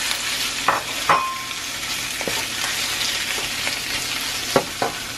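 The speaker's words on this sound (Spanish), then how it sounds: "Que esto se fría un poco." Shrimp and noodles frying in a pan for chow mein, a steady close sizzle with occasional sharp clinks and scrapes of a utensil stirring.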